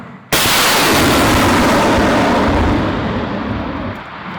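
A single loud artillery blast booms suddenly in wartime Ukraine, then rolls out into a long, fading rumble that lingers for several seconds.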